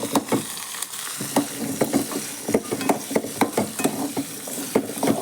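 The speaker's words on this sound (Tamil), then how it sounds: "சின்ன வெங்காயம், இஞ்சி சேர்த்து நல்லா வதக்கிக்கலாம்" Shallots, ginger, garlic and dried chillies sauté in hot oil, a steady sizzle broken by repeated scraping stirs of a spoon in the pan, close and fairly loud, with no talking.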